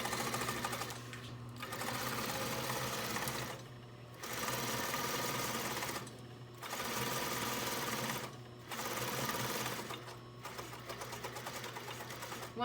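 A sewing machine stitching a double layer fabric face mask hums in four or five steady runs separated by short pauses, close and fairly quiet, with no talking.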